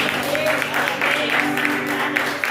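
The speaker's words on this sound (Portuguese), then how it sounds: "você aplaude o Senhor" Congregation applauding during a church service, steady overlapping clapping with tonal sounds, likely voices or music, running beneath it throughout.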